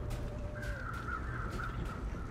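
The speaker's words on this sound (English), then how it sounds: "there's some crows flying around up there" Crows caw in The Long Dark, one drawn-out call followed by a longer rasping series, moderately distant over steady wind noise.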